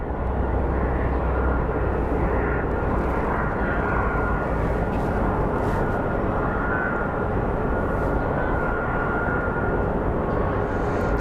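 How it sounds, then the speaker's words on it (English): American Airlines airliner arriving from Seattle at Phoenix Sky Harbor airport, a loud continuous jet roar that stays steady and close throughout, with no speech. "here comes American Airlines 710 coming in from Seattle"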